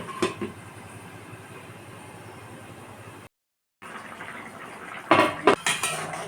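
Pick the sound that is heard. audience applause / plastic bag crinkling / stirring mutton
stirring mutton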